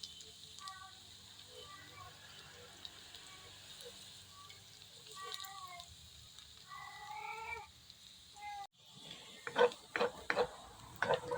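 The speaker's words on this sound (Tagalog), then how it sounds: "gigisa lang natin yung ating bawang hanggang maamoy natin yung kanyang aroma" Garlic sautés in a pan with a faint, steady sizzle, joined by faint tonal sounds through the middle and louder clattering knocks near the end.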